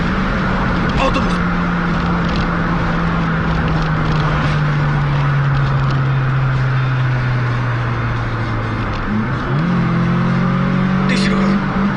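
A bus passing by on a road, its engine drone sliding slowly downward in pitch and then rising again, while people shout nearby throughout.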